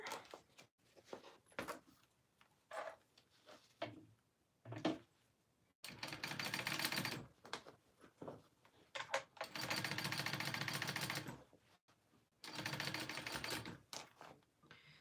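A sewing machine top-stitches through heavy material, running in loud bursts of rapid mechanical hammering separated by short pauses with small clicks and handling noises, with no voices.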